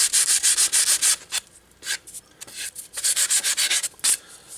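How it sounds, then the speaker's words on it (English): A veneer edge is hand sanded with 400 grit sandpaper in quick, close, scratchy back-and-forth strokes that come in rhythmic bursts with short pauses between them. "I just took a piece of 400 grit sandpaper, cleaned it up"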